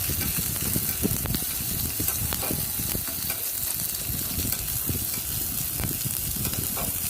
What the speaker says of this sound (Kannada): ಸ್ವಲ್ಪ ಒಂದು ಅರ್ಧ ಈರುಳ್ಳಿ ಎಷ್ಟು ಹಚ್ಕೊಂಡಿರೋ ಹಾಕಿ ಚೆನ್ನಾಗಿ ಡೀಪ್ ಫ್ರೈ ಮಾಡಿಟ್ಕೊಳ್ಳೋಣ